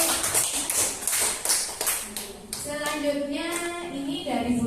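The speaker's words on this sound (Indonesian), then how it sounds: "tepuk tangan untuk Bu Yuyun" A group claps for a teacher during a class session, a short burst of rhythmic hand claps in the first couple of seconds, followed by voices talking.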